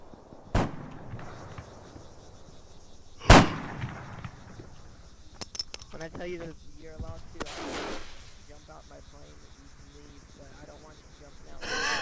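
A smoke grenade pops in ArmA 3 King of the Hill: two sharp, loud bursts stand out a few seconds apart against quieter game sounds and intermittent talking.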